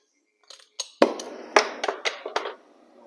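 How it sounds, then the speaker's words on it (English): A series of sharp metallic strikes, about eight irregular hammer blows on heated long tube exhaust headers, ringing briefly, close up with quiet gaps between. "I need to hammer a little bit more on this side"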